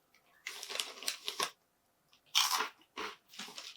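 Crunchy cheese crisps being chewed up close, several bursts of loud crackling bites separated by short pauses, with no talking.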